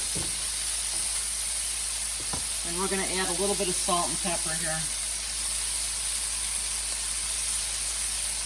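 Steady bright sizzle of chicken frying in a pan for fried rice, continuous throughout, with a person talking over it for a few seconds in the middle.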